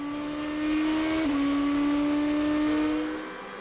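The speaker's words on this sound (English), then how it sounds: "Distinctive 8-into-1 exhaust system gives these cars a distinctive engine note." A 2006 GP2 Series race car with an 8-into-1 exhaust screams past at high revs in Germany, its loud steady engine note dipping briefly at a gear change before fading slightly as it moves away.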